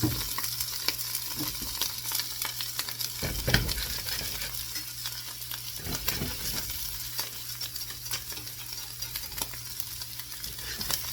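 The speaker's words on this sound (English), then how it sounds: "Let those mushrooms get a little bit of a skin on the bottom. Basically, what you want to do is you want to fry." Mushrooms for an omelette fry in a little oil, giving a steady close sizzle with soft crackles and occasional stirring scrapes.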